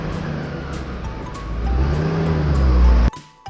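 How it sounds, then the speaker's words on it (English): A car engine rumbles and revs up, the low drone climbing in pitch and volume before cutting off abruptly, followed by a brief quieter sound at the end. "He started his car."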